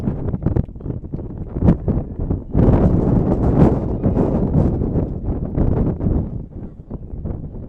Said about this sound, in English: Although with this wind, who knows?